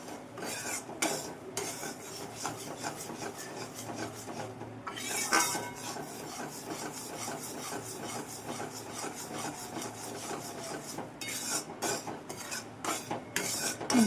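Moong dal roasts in a pan on low gas while a spoon stirs and scrapes it continuously, making a gritty, rasping rub with occasional metallic clinks, close and steady with no talking.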